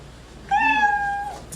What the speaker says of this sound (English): Comedians, you know your 60 seconds is up when you hear the sound of a kitty.